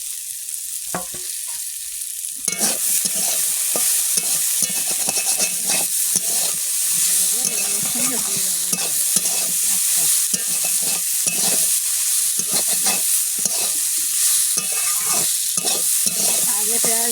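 Potatoes frying and being stirred in a pan, with loud continuous sizzling under repeated scraping strokes of a spatula, close up and with no talk.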